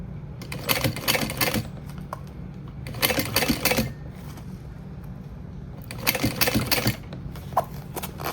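Sewing machine stitching piping onto a crossbody bag gusset, three loud bursts of rapid mechanical whirring of about a second each, separated by quieter pauses.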